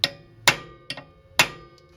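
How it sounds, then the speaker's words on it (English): Hammer taps on a rusted bolt thread in the rear brake of a Mercedes-Benz W202 C280: four sharp metallic knocks, close and distinct, spaced irregularly over two seconds, with short ringing decay. "I just take a hammer,"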